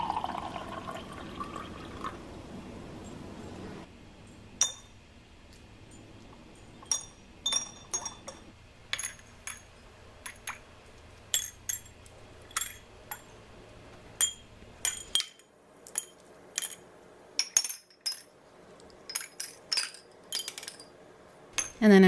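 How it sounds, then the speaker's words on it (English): Stones clink and drop one by one into glass jars partly filled with water, sharp close chinks at an uneven rhythm with brief splashy drips, loud against a quiet background and no talking. "you're just going to want to fill them with water part way, because you're going to add stones"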